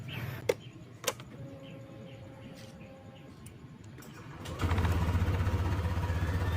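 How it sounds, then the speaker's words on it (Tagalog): A scooter engine, freshly refilled with manual-motorcycle Shell oil after an oil change, starts after a few sharp clicks and settles into a steady, close, low idling hum for the remaining seconds. "Painitin natin yung motor natin."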